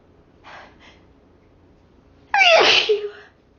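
A woman sneezing after sniffing chhinkni snuff: a soft sharp inhale, a pause, then one loud, close, explosive sneeze with a brief trailing exhale.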